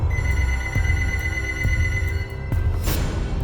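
A telephone rings inside an apartment with a clear, steady electronic tone, heard nearby and loud, with faint periodic clicks and a brighter burst near the end.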